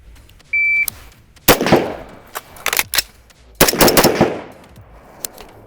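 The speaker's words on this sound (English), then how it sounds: "On signal, you'll fire one, reload three." Rifle shots ring out during an emergency reload drill at a range: one sharp nearby shot, then scattered cracks, and a quick cluster of rapid shots. A short electronic beep sounds at the start and there is no talking.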